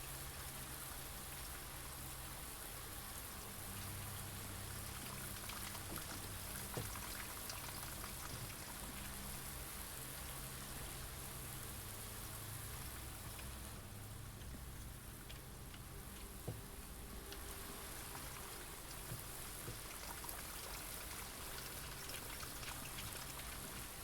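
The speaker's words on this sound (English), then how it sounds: "It's raining." Rain falls steadily in the video game Blue Prince, a faint, even hiss of drops with occasional soft taps, continuous and uninterrupted for the whole stretch.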